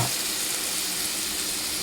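Steady, close sizzling and bubbling of kidney and mushroom gravy cooking in a hot pan, a continuous crackling hiss throughout with no voices.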